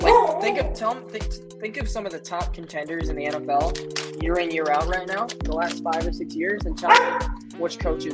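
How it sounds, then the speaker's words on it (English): A pet dog barks repeatedly in the background, sharp yips breaking through steady close talk from a man discussing football, with tonal music underneath. "Sorry about my dog barking."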